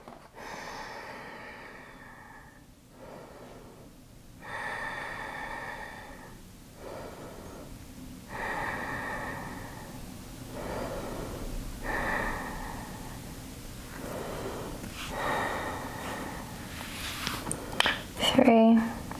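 Slow, steady breaths drawn in and let out through the nose during a yoga class held in butterfly pose, repeating in an even rhythm of long inhales and exhales, close and fairly quiet, with a brief voice near the end.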